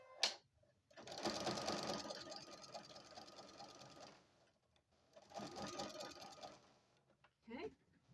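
A sewing machine runs a zigzag stitch around fleece binding in two close bursts of rapid rhythmic whirring, with a pause between them and faint clicks at the start and end.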